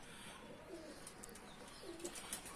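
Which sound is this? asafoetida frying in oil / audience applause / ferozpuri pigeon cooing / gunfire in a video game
ferozpuri pigeon cooing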